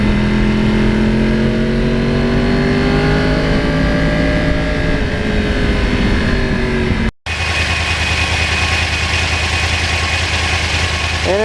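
A 2009 Yamaha R1 crossplane motorcycle engine runs close and loud, a rough throbbing idle with rising and falling revs, cut briefly then resuming at a steady burble.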